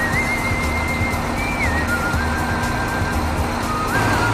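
A Shandong Lingong ZL50E wheel loader's engine runs at a steady idle hum with a low drone, joined by thin whistling tones that waver on and off above it.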